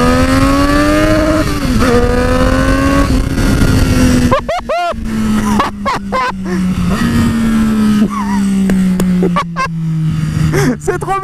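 Triumph Street Triple 765R motorcycle with an aftermarket exhaust, engine droning loud and close with a steady pitch that slowly drops, broken by short gaps and bursts, while people talk over it.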